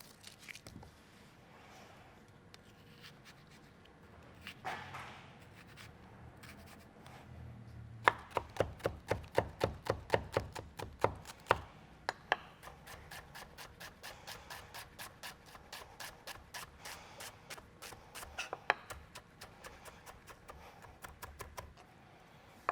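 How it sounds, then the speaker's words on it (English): A knife finely chops vegetables for a Mexican pork carnitas dish on a cutting board, quiet and close. Scattered strokes come first, then long runs of rapid, even taps, with brief pauses between runs. "And the rest is going to be chopped up nice and finely"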